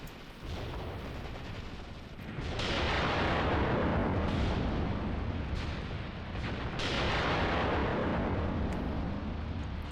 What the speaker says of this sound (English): the edge of their barrage is on the tree line there, for the first one anyway